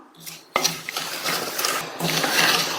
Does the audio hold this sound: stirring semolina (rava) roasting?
yes